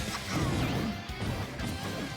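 A down air attack lands a heavy hit in a Super Smash Bros. Ultimate match between Wolf and Bowser Jr., a loud crunching smash over dense, continuous game noise.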